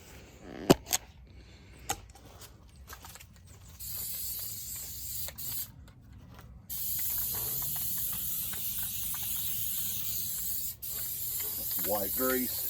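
A can of white grease clicks and rattles a few times, then sprays in hissing bursts followed by a longer steady hiss, close by in a work setting near a disk harrow.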